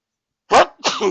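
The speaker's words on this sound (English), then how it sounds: "Oh man, I got a sneeze coming on." A single loud, close sneeze bursts out after a moment of silence, followed by a short vocal trailing sound.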